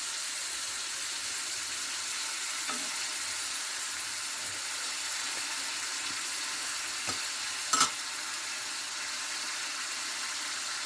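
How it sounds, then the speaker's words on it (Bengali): Chicken sizzling as it is sautéed in a pan, with a steady frying hiss and occasional scrapes and clinks of a stirring spoon against the metal, close and continuous with no voices. "এই রেসিপিটা বন্ধুরা এইভাবে কষাতে কষাতে রান্না হয়ে যাবে"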